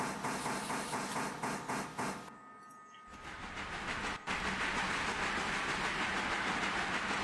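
A steam locomotive in the railroad simulation game Railroader pulls away, its steady rolling rumble and clatter running loud and continuous, with a short pause before the noise resumes.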